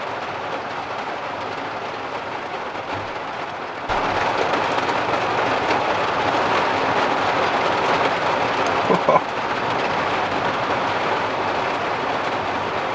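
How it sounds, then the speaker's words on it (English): Heavy rain drums steadily on the roof of a camper van, a dense, even wash that swells louder partway through and holds with little variation, no voices over it. "Started raining quite heavily now."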